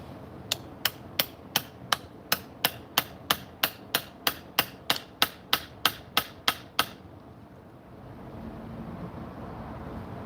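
Steady hand chiseling of wood with a hammer while making woodworking tools: about twenty sharp, evenly spaced strikes ring out close by, then stop, leaving a low background rumble.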